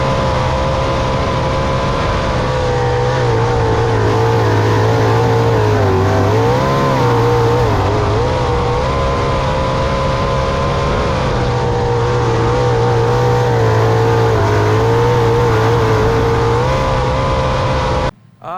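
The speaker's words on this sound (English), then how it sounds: "David Gravel to the inside of Donnie Schatz, looking for second, can't make it happen." World of Outlaws sprint cars race at Black Hills Speedway: a loud, continuous engine roar that sways in pitch as they work through the turns, dipping briefly midway and cutting off abruptly at the end. No voices.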